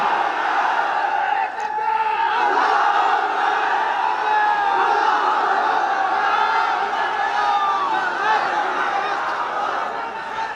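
A large outdoor religious gathering answers a takbir call with a sustained massed chant of Allahu Akbar, many voices roaring together loudly and steadily for several seconds.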